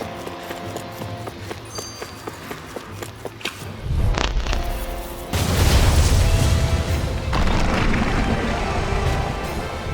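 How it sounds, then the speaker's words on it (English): Rockets explode in the video game Tales of Arise. A heavy boom lands, then louder blasts and rumbling debris follow over game music, with no speech. "Are those rockets?"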